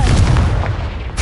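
The Confringo blasting spell in Hogwarts Legacy detonates in a single loud, deep boom with a heavy low rumble that decays quickly and then cuts off sharply.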